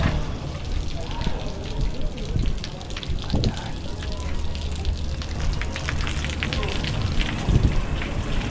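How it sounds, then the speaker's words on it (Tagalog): Rain falls steadily outdoors in Apia, Samoa, a dense crackling patter that swells and eases, with faint voices and occasional bumps in the background. "Yung ulan niya, lalakas tapos biglang kokonting hina."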